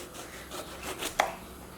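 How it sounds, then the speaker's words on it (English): A knife slices through an eggplant for Guyanese baiganee, a few soft cuts followed by one crisp tap of the blade on the board, close and fairly quiet. "now Grandma's gonna slice up the baigan for the Baiganee"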